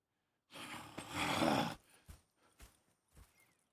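Horses in a Western-era video game: a loud snort or whinny-like breath, followed by a few soft, irregular hoof clops on the ground.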